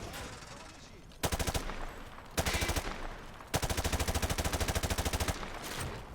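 Rapid bursts of gunfire shooting through light cover in Call of Duty Modern Warfare 2 Remastered, three sharp automatic volleys, the last one long and steady, loud and close over a low ambient background.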